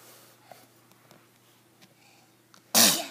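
A single loud, sudden sneeze near the microphone bursts out at the very end, after a stretch of quiet room noise at home with a small child playing with puzzle pieces.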